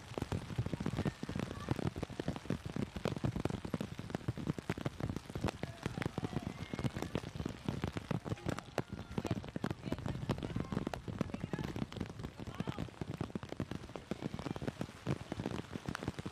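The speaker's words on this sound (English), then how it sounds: "the rain has really started to come out here." Rain falls steadily and densely on hard surfaces during a girls' under-15 soccer match between Panama and Canada, a continuous patter filling the whole stretch, with faint voices occasionally beneath it.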